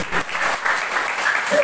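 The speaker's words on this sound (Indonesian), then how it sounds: "Beri tepuk tangan yang terbaik buat Tuhan." A church congregation claps together in praise at a Christmas service, a dense, steady burst of applause throughout, fairly loud and close with no voices over it.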